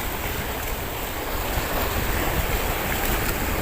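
Strong ocean waves heard from a fishing boat at sea, a loud continuous rushing surf roar mixed with gusty wind buffeting the microphone throughout.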